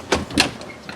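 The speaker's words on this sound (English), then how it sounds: "sliding door." A sliding door on a 2024 Salem View 28VIEW travel trailer rolls along its track in two quick, close scraping strokes, followed by a lighter click near the end.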